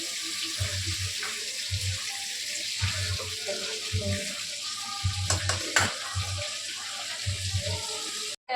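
Chicken pieces fry in oil for biryani, a constant sizzling hiss with intermittent low thumps and stirring scrapes, close by and steady, with a brief clatter near the end.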